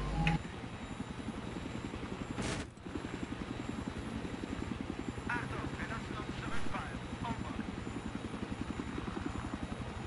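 Steady rotor thump of a helicopter in Battlefield 3 runs throughout, loud and close, with a brief dip partway through and some faint voices underneath.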